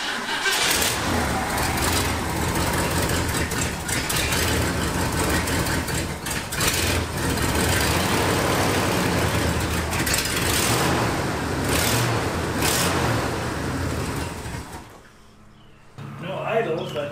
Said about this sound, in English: we're going to start it up with that hose totally plugged and see if it runs pretty good